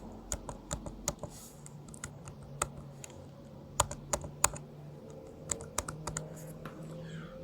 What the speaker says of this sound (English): The X key that I just pressed was also stuck.